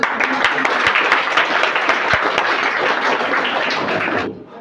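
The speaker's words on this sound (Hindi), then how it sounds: "इनके लिए जोरदार तालियां।" Loud applause from a crowd at a high school Bihar Diwas celebration, dense continuous clapping for several seconds that ends abruptly.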